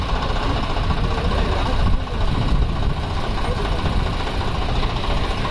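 A Swaraj 744 FE tractor arrives, its engine a continuous loud low-pitched rumble with slight knocking pulses, and faint talk occurs.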